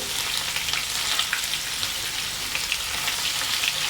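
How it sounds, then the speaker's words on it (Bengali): Fish fries in hot oil in a pan, a loud, steady close-up sizzle with crackling spits throughout, no voices over it. "আর একটু মাছটা ভেজে নেই।"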